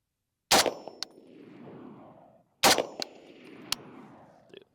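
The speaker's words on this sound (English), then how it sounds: "now we should be able to hit that steel" Two loud rifle shots from a Springfield M1A, each a sharp crack with a ringing metallic clang from a steel target and a rolling echo, about two seconds apart outdoors.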